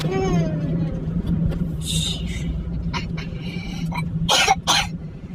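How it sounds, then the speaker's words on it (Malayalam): A person coughs repeatedly in harsh bursts near the microphone, with some throat clearing and a low background rumble. "അയ്യോ ചുമച്ച് ചാവാറായി"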